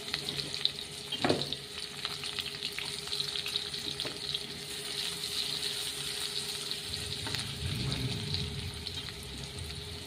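Onions frying in a pan for fish tikka give off a steady, fairly loud sizzle that runs the whole way through, with a few faint clinks and no talking.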